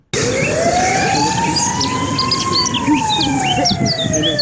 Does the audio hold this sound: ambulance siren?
yes